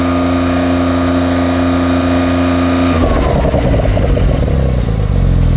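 A Porsche 911 Sport Classic engine revved while stationary against a 3,500 RPM soft limiter, first a steady loud hum, then a harsh, buzzing, vacuum-cleaner-like drone that holds flat and loud.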